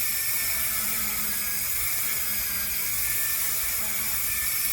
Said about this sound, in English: This actually grinds through the resin really fairly well.